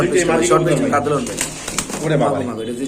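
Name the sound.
Lahori pigeon cooing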